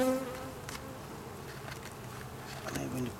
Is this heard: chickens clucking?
no